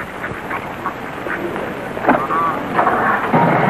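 Ducks quack in a few short, scattered bursts over a steady, wind-like background hiss, fairly close and moderately loud.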